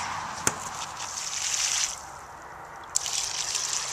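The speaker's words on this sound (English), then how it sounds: "is there a certain amount of water I should add every week, Shelley" Water poured onto the soil around a newly planted tree, a steady splashing pour that rises and falls over a few seconds, with a couple of sharp knocks mixed in, close and fairly quiet with no talking.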